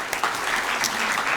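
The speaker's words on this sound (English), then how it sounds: "let's give a round of applause to all the amazing speakers" An audience at a research talk event gives the speakers a brief, dense round of applause, a steady wash of clapping heard without other sounds.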